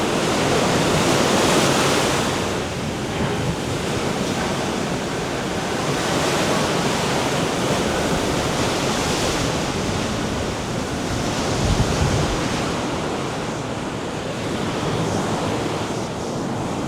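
Ocean surf rolls steadily onto a Fort Lauderdale beach, a continuous loud wash of breaking waves with wind buffeting the microphone throughout, no voices present.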